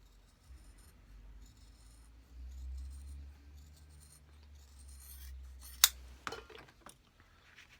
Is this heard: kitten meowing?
no